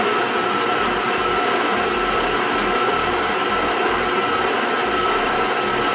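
A stand mixer beats rich brioche dough with a large amount of butter, producing a loud, steady motor whir with a rhythmic low thumping as the dough slaps around the bowl, continuous and close.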